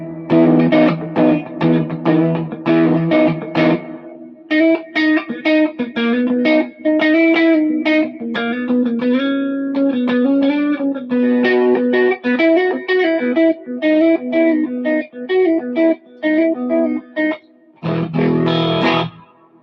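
A semi-hollow electric guitar plays through distortion and effects, loud chords and sustained melodic notes with reverb, broken by brief pauses, with no talk.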